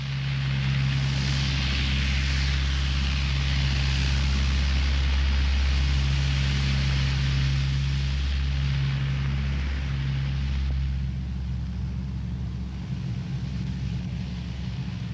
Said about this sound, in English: As the giant Hercules lumbers down the runway for takeoff